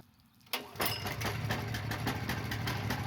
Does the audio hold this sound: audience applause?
no